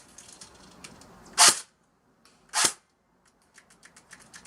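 A budget airsoft AK-style rifle fires two sharp, loud shots about a second apart outdoors, each a crisp snap followed by quiet, with faint background noise.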